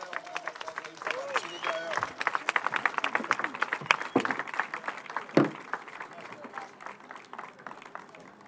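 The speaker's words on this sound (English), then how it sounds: "A big applause for Martini Graião." Applause and cheering from a crowd gathered on the dockside at Itajaí for Volvo Ocean Race sailor Martin Graião of Team AkzoNobel, sustained clapping with voices mixed in, loud at first and tapering near the end.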